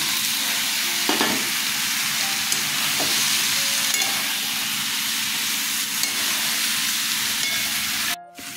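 Elephant foot yam and potato pieces frying in spiced oil give off a steady, dense sizzle throughout, with a couple of brief stirring scrapes, close up and with no talking.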